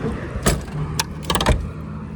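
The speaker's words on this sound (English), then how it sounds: "Wait for all the cars to pass." Cars passing on a downtown Los Angeles street near Koreatown, several close whooshing passes in quick succession with brief gaps between them, loud and near, with no voices.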